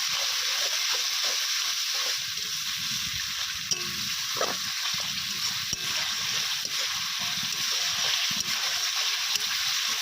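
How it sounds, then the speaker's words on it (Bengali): Spices fry with salt and turmeric in a pan for an egg curry, making a steady, close hiss of sizzling oil broken by occasional stirring scrapes and clicks throughout. "দিয়ে আবার কিছুক্ষণ ভালোভাবে ভেজে নেওয়া হবে।"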